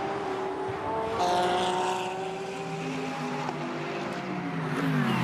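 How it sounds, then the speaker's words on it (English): A Ferrari GT race car passes during the Bathurst 12 Hour endurance race, its engine note rising and sliding down in pitch, loud and close throughout with a steady roar and no talk over it. "So that's the sister Ferrari coming through."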